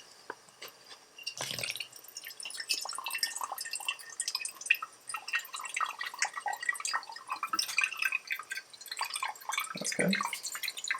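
Water poured over a paper filter in a Chemex coffee maker, a close, irregular patter of drips and splashes with a couple of brief louder pours, no voices.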